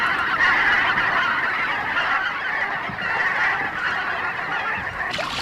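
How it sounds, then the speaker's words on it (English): A flock of Brent geese honks continuously, a dense chorus of overlapping calls that holds at a steady, fairly loud level from start to finish. "the Brent goose was ever alert to danger and ready to cry alarm"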